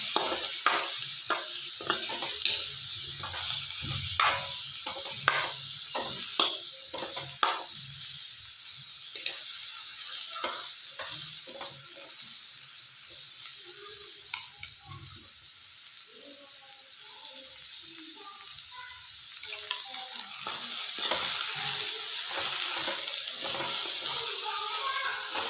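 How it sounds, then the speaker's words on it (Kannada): Chopped cabbage being stir-fried in a pan for a North Karnataka-style palya, with repeated scraping and stirring strokes over a steady sizzle, quieter mid-way, then the sizzle rising again. "ಚೆನ್ನಾಗಿ ಮಿಕ್ಸ್ ಮಾಡ್ಕೊಳ್ಳೋಣ. ಚೆನ್ನಾಗಿ ಹುರ್ಕೊಳ್ಳೋಣ ಕ್ಯಾಬೇಜ್"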